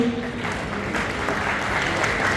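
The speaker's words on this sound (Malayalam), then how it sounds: "ഒന്ന് നന്നായിട്ടൊന്ന് ക്ലാപ്പ് ചെയ്ത് എല്ലാവരും." Guests clap together at a 50th wedding anniversary cake-cutting function, a steady, moderately loud patter of many hands sustained throughout with a faint murmur beneath.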